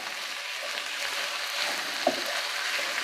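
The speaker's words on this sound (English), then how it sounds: "You hear that sizzle?" Soft, steady sizzling of chicken frying in a pan, a continuous hiss with faint crackles, heard up close with no talking.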